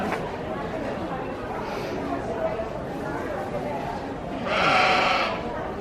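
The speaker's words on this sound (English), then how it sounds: "Looks like we have a couple Shropshire ewes." Shropshire ewes, freshly sheared, bleat amid a busy sheep and wool festival crowd in chilly weather, with a louder bleat near the end rising over steady chatter and people talking.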